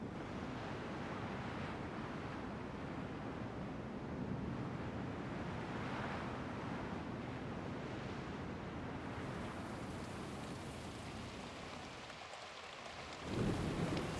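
A ship sails on ocean waves in a survival city-building game, heard as a steady, dense wash of surf and wind that rolls on without a break, with no voices.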